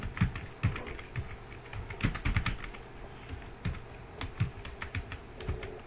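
Keys clatter on a computer keyboard in short irregular bursts of crisp, close taps, with brief pauses between groups of keystrokes and nobody talking.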